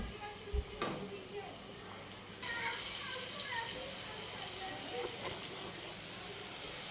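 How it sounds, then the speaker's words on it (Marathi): Capsicum sizzles as it fries in a pan for pav bhaji, a steady crackling hiss with a few sharp clicks and stirring knocks at the start. "तुम्ही बघू शकतात की आपले हे जे शिमला मिरची आहे ती छान प्रकारे अशी फ्राय झालेली आहे"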